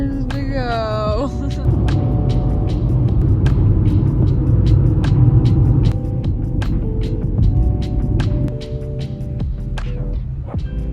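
Steady car interior drone on a long road trip through Northern California toward Yosemite, a constant low rumble and road hum, loud and unbroken, with brief music-like tones early on.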